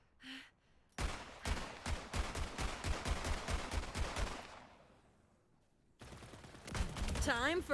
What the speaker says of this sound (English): You just might have to stick with hip mode firing.